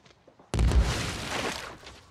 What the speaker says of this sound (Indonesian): Tiba-tiba semua uang itu meledak.